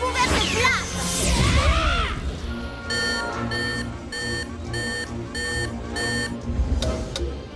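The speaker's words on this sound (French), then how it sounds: "Hé, Desmond, ça y est, on a un bip." A steady series of regular electronic beeps, about six evenly spaced pulses, follows a noisy whooshing jumble at the start.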